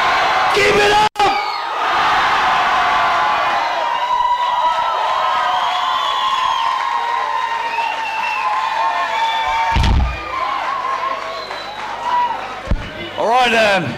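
Concert crowd at a metal show at Hard Club, Vila Nova de Gaia, Portugal, screaming and whooping loudly in a sustained roar, with a sharp bang near the start and shouts rising again toward the end.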